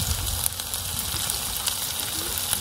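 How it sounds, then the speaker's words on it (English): Scarletina boletes fry in a pan, giving a steady close crackling sizzle with soft hiss and small pops throughout. "we've got proper sizzle now, haven't we?"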